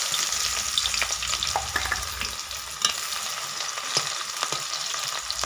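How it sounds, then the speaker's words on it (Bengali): Chopped onions fry in oil in a wok, a continuous hiss and sizzle broken by scattered crackles and the scrape of stirring, close and steady with no talk. "পেঁয়াজটা একটু ভেজে নিচ্ছি।"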